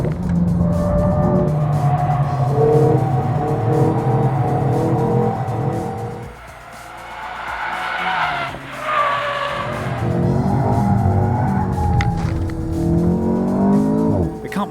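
Alpine A110 sports car drifting, loud sustained tire squeal and skidding over a revving engine, close up, easing briefly mid-clip before the screech returns, with a voice talking over it.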